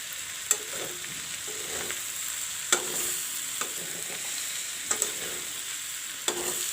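Mixed vegetable bhujiya of broccoli, carrot and capsicum with chili powder fries in a pan with a constant soft sizzle, as a spoon scrapes and stirs in a handful of sharp knocks spaced a second or two apart.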